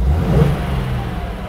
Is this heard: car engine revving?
yes